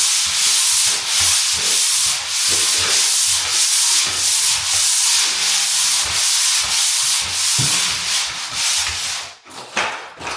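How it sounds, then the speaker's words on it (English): Drywall joint compound over screws is sanded by hand, a steady, close, rhythmic scraping rub of repeated strokes that continues throughout and pauses near the end. "let's take a look and see how much sanding is actually needed"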